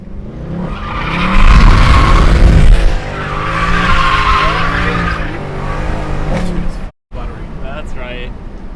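A Mercedes C63 AMG with a welded differential drifts on a street, tires squealing and skidding loudly over a droning engine, with a brief break near the end and people talking over it.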